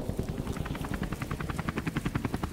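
Helicopter in Call of Duty 4: Modern Warfare, its rotor thumping in a fast, steady rhythm, loud and close, the beat continuing unbroken.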